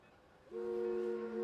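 A distant train horn at a rail yard sounds one sustained, steady chord after a quiet moment, holding to the end.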